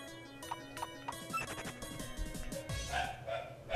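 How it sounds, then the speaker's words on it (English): In the Touhou Puppet Dance Performance video game, several short, yappy dog barks sound in quick succession over bright game music with chiming tones. "Dog, dog, dog."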